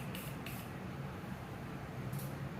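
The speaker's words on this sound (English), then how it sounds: "Now I'm going to spray it over top of the shadow that I just put on." Three short hissing bursts of facial setting mist sprayed over eye shadow makeup, close by, with quiet pauses between them.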